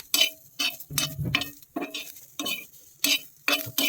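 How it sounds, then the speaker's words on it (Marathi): Grated coconut roasting in a pan while a spoon stirs it, giving irregular scraping and clinking strokes in separate bursts, close and moderately loud, with no talking. "2 चमचे किसलेले खोबरे, हे मिसळून 4 ते 5 मिनिट परतून घ्यायचं."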